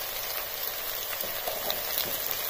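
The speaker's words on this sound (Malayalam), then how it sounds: "ഇനി ഇതെല്ലാം കൂടിയിട്ട് നമുക്ക് ഈ പൊടി" Spice powders sizzling in hot oil for a simple curry without coconut, a steady, dense, crackling hiss that holds evenly close up, with no voices.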